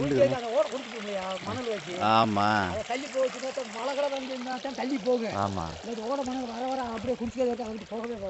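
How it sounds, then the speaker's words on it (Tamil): Stream water runs steadily from a mountain spring at the foot of the Western Ghats, a continuous background wash beneath people talking nearby. "இன்னும் தண்ணி போய்க்கே இருக்கு."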